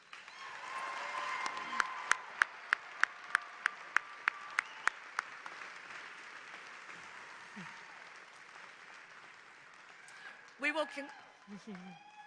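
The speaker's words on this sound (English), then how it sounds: "let's give our graduates one final round of applause" Audience applause at an SIUE university commencement ceremony honouring graduates, a sustained broad wash of clapping with some sharper individual claps, tapering off toward the end as voices and movement take over.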